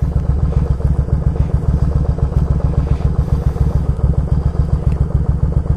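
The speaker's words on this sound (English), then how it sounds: "I'm always impressed when you get an old bike and it just runs this good." A Yamaha Virago motorcycle engine idling close up, a loud, steady, low throbbing pulse with a fast even beat, heard alone throughout.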